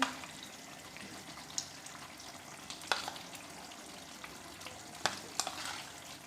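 Chicken malai with cream frying in a kadai, a soft, low sizzle throughout, with a few brief clinks and scrapes of a stirring spoon. No talking.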